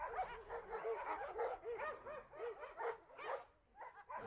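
French army dogs bark and yip in kennels at a military dog-training regiment, many overlapping barks in a fast irregular chorus, somewhat distant and reverberant.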